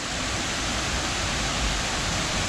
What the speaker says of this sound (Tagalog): Waterfalls mga kaberts. Look at that.